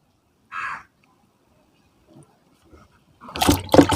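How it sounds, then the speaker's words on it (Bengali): Water splashes and sloshes loudly over dahlia tubers as garden soil is rinsed off, after a brief earlier burst and faint trickles, with the final second dense with running water. "সুন্দরভাবে মাটিটা ধুয়ে পরিষ্কার করে নেবেন"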